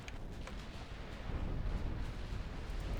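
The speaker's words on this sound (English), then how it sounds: "that looked like a violent explosion" Warship blowing up in the naval game Ultimate Admiral: Dreadnoughts, a dense low rumbling boom that swells louder partway through and rolls on steadily without a clear end.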